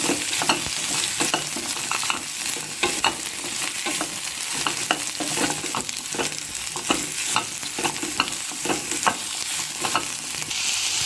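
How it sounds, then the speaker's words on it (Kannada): Bottle gourd pieces fry in oil for a Dharmasthala-style sambar, a loud, steady sizzle with frequent sharp crackles and occasional stirring scrapes, close by with no voices. "ಇದನ್ನು ಎಣ್ಣೆಯಲ್ಲಿ ಚೆನ್ನಾಗಿ ಫ್ರೈ ಮಾಡ್ಕೋಬೇಕಾಗುತ್ತೆ"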